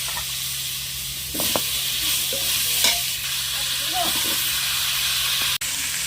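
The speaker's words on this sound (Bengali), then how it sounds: "লবণ হলুদ মাখানো আলুগুলো ভেজে নেব।" Potatoes coated in salt and turmeric fry in mustard oil in a wok, a steady close hiss and sizzle broken by a few stirring scrapes and soft knocks, with a voice speaking briefly under the frying.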